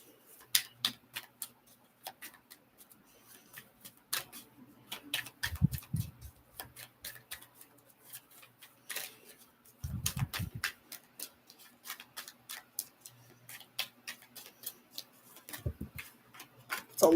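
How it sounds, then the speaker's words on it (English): Tarot cards shuffled in a steady run of crisp, rapid ticks and snaps, close and fairly quiet, with a few low thumps as the deck is tapped or squared between riffles. "every time I'm shuffling cards for Jihoon, there's always a lot of cards."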